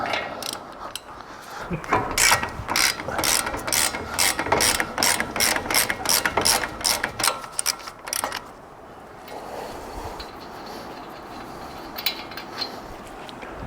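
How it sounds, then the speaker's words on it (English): A hand ratchet loosening a nut on a BRBN Off-Road 3-Way 2.8 Series coilover and control arm being fitted to a 2025 Ford, with a run of sharp, rapid clicks for several seconds, then quieter workshop handling noise and no talking. "we're just gonna loosen this nut real quick so that we can get this to pop up"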